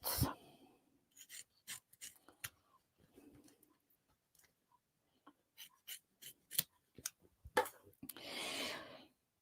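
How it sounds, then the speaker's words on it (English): Scissors snip repeatedly through fabric, trimming back a sewn seam allowance on a crossbody bag, with quiet close crisp cuts in irregular bursts and brief rustling between them, and no talking. "So I'm just trimming back this seam allowance to about 1/8."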